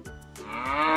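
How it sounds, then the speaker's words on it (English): A cow gives one close, loud moo that starts low and swells into a drawn-out, rising bellow, heard alone without any speech. "This is a cow."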